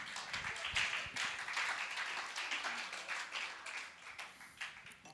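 Scattered clapping from a church congregation during a Pentecost sermon, steady and moderately loud, with faint voices mixed underneath.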